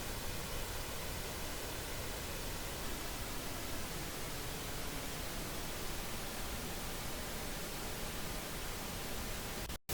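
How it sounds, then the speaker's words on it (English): Steady, dense pink noise with a hollow, combed coloration from comb filtering at about a 2 millisecond delay, continuous and even throughout before cutting off abruptly at the very end. "if I put it back to let's say 2 milliseconds and enable the pink noise"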